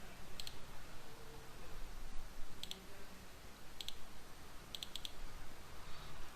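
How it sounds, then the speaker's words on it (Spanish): Computer mouse clicks come in short, crisp pairs and triples spaced a second or so apart over a faint steady background, with no voices. "Hacemos clic"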